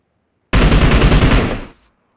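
Gunfire in the video game Deadshot: a loud, rapid burst of automatic shots lasting just over a second, then quickly cutting off into silence.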